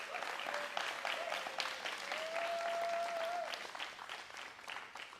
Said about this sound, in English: Let me ask you to give this council a round of applause